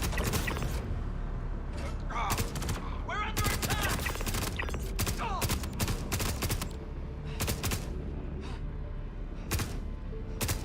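Rapid gunfire from the Star Citizen space game, with dense overlapping shots in irregular bursts running steadily throughout, mixed with mechanical clatter and a voice talking over the shooting.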